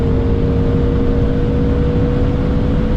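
An 800 hp BMW M5 F10 running flat out at high speed on the Autobahn, a loud, steady engine drone with droning tonal hum and wind roar, close and continuous, no talking.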